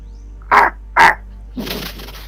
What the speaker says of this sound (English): you hear something make contact with the roof above you, and you look up and you see a large raven